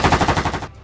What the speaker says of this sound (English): Suddenly, the booming chatter of automatic gunfire resounded from their left,